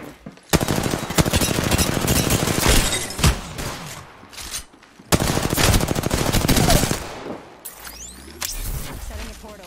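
Rapid automatic gunfire from the Apex Legends battle royale, loud bursts of sustained firing in two long stretches with brief gaps, ending in a quieter spell with scattered impacts.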